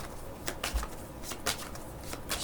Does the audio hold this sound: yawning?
no